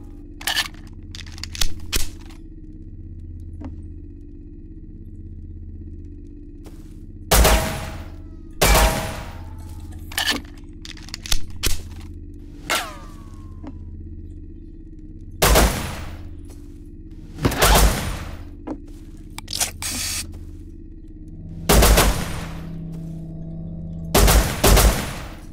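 Gunfire in the survival video game Rust: sharp, loud shots ring out singly and in quick pairs, spaced several seconds apart, over a low steady background hum.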